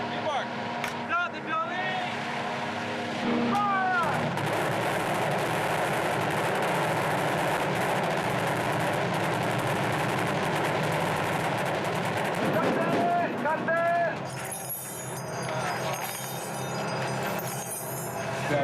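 Rapid bursts of blank gunfire from about 200 soldiers and 50 stunt performers on a battle-scene film set, crackling densely and loudly throughout, with vehicle engine noise and shouting voices mixed in.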